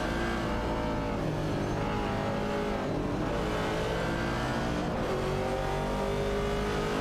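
Race cars in a video game, a Mercury Cougar and a Dodge Challenger battling for position, roar with continuous loud engine drone and revving throughout, close and unbroken.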